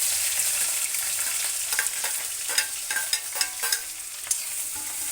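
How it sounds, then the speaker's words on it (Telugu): Green chillies and onions sizzle steadily in a hot pan, close and loud, with repeated scraping clicks of stirring scattered through the frying. "పచ్చిమిర్చి ఉల్లిపాయలు రెండు ఒకటేసారి వేసేసుకుంటే"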